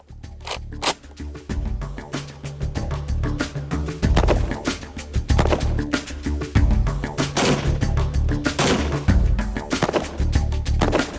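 Rapid bursts of rifle fire from M1 Garand rifles, loud sharp cracks in dense succession, overlapping as if several shooters fire at once, with brief gaps between volleys.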